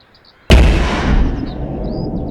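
A single sharp, loud shot from a Brass Eagle paintball gun fires outdoors with a sudden crack, followed by a long rumbling decay that fills the rest of the moment.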